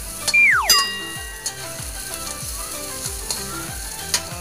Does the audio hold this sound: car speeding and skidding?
no